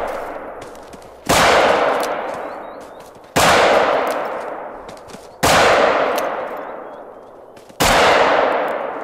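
Four loud pistol shots fired at a lion in theHunter: Call of the Wild, spaced about two seconds apart, each a sharp crack that trails into a long, fading echo.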